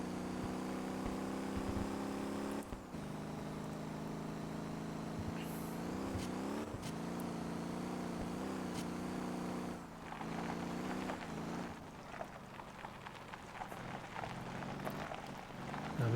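Car engine in the driving game Motor Town, a steady harmonic drone with pitch rising and falling as the throttle changes, loud and continuous with brief dips, no talking.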